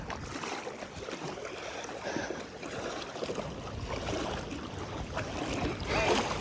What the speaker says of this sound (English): That wave's about to get here though.